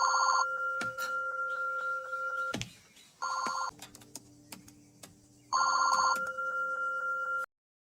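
A telephone rings after a number is dialed, sounding in three loud, rhythmic bursts of ringing with quieter tones and gaps in between.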